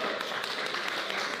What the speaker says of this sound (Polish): Luki wygrał! Wielkie brawa!